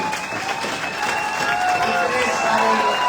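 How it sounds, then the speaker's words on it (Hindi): A crowd of students applauds loudly for a classmate selected for an EPFO post, sustained clapping and cheering building slightly over a few seconds. "एक बार बहुत जोरदार ताली भाई के लिए"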